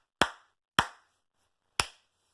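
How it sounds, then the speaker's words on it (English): Three sharp, isolated snaps of the fingers ring out close and crisp, evenly spaced at first then with a longer pause before the last, each decaying quickly into silence. "you can snap your finger"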